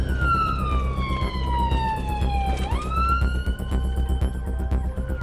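An ambulance siren wails on blue lights during an emergency response, its tone sweeping steadily downward then jumping back up, loud and continuous over a dense rumble of engine and road noise.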